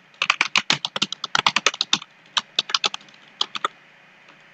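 Close, crisp computer keyboard keystrokes while code is typed for a Java Spring application come in quick irregular bursts, then sparser taps with short pauses, and no one speaks.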